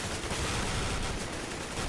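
Continuous gunfire from a competitive shooter game match, a dense unbroken wash of overlapping shots and bursts filling the whole stretch at steady loudness, with no talk.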